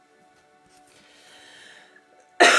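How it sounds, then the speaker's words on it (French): Soft, wheezy breathing, then one sudden loud cough bursts out at the very end. "Pardon, je tousse encore."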